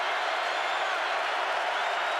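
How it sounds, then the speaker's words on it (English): A packed stadium crowd at an NFL game between the Colts and Steelers gives off a dense, steady roar of many voices, an even wash of noise that holds throughout without clear peaks. "Crowd gets a little nervous"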